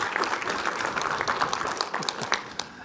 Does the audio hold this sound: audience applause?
yes